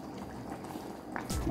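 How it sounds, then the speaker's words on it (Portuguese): Soft bubbling and simmering of thick jackfruit sweet in a covered pot, steady and low, growing a bit louder toward the end with faint sputtering. "Olha o barulho. Então tá fervendo bem,"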